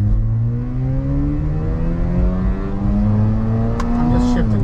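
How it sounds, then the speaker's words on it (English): A Mazda RX-8 rotary engine, fitted with a Volo Chip VP16 power programmer and running on a dyno, revs loud and steady, its tone climbing smoothly toward redline over several seconds, with a brief higher whine near the end. "this time I'm gonna try to redline it"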